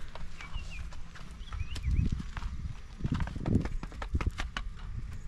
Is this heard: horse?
yes